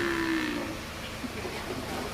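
A farm buffalo lets out a brief, low moo at the start, then fades into quiet barnyard background around feeding time.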